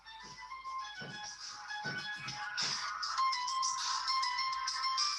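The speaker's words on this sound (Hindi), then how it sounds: "रुकिए, अभी कॉलेज से फोन आ रहा है" A phone ringtone rings during a college lecture on patent law, a bright repeating electronic melody that keeps going and grows slightly louder, with faint shuffling underneath and no talk.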